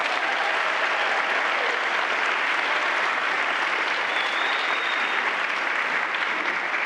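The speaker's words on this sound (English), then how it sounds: "Let's give them a round of applause." An audience at a community band concert in Norman, Oklahoma claps in sustained applause. It is a dense, even wash of many hands that holds steady for several seconds with no talk over it.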